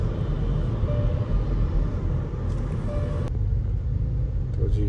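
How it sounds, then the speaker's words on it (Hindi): Steady low road rumble heard from inside a moving car on the way to Al Hijaz mall near Mecca, with a faint tone and a soft click partway through. "तो गाड़ी में बैठ चुके हैं हम"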